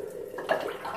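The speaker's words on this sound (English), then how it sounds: "So I'll rinse that off, the blade," A shaving razor blade is rinsed under a running tap, giving a brief close splash of flowing water that shifts and surges halfway through, lasting about a second.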